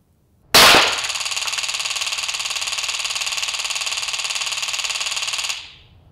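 A Taser firing two probes into a metal target: a sharp pop, then a loud, steady rapid electrical crackling buzz that holds for about five seconds before cutting off.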